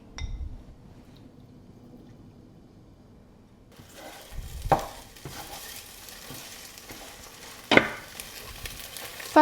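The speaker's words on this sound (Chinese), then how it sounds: "翻炒鸡蛋" Eggs stir-fried in hot oil in a wok: a quiet start, then a steady sizzle from midway with sharp scraping and clinking of a spatula against the metal at irregular intervals.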